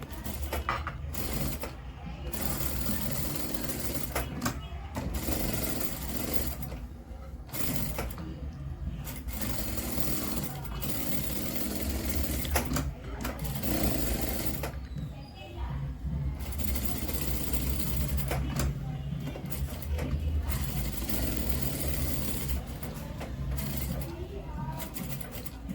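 A sewing machine stitches a blouse in quick rhythmic bursts of close mechanical chattering, broken by short pauses, with a person talking over and between the runs.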